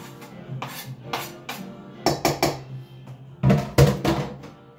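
Diced whole apple is folded into protein pancake batter in a bowl, a series of wet knocks and clatters of a utensil against the dish, some in quick clusters, close and fairly loud with no talk.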